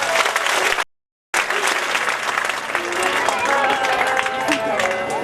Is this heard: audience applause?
yes